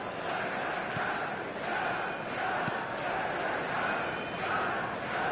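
A stadium crowd in the video game eFootball 2026 gives off a steady, dense roar of chanting and shouting with a few sharp accents, sustained throughout and fairly loud.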